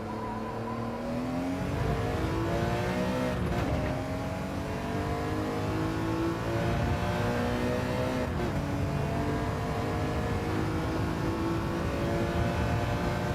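A race car engine in Gran Turismo 7 revs hard and steadily throughout, with rising and falling harmonic pitch sweeps as it accelerates and shifts, loud and close with no talking.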